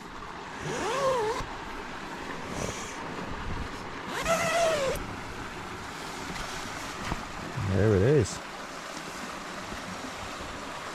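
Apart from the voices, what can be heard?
water rushing over a stone weir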